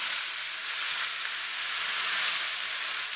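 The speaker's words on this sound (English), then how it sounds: "So I sear it on both sides just to seal the flavor in." A pork loin sears in a very hot pan, giving a loud, steady, close-up sizzle that hisses without a break and with no talking.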